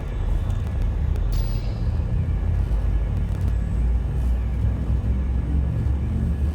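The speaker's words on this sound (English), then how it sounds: "Frameshift drive charging." A spaceship's frameshift drive charges in Elite Dangerous, a steady, heavy low rumble that holds at an even level for the whole stretch, with a faint brief whoosh early on.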